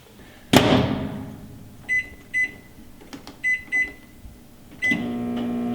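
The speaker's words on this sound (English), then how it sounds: "our squash is in the microwave cooking up and getting ready for us" Microwave oven heating spaghetti squash: a door thuds shut, a series of short keypad beeps follows, then the oven starts with a steady low hum, all close by.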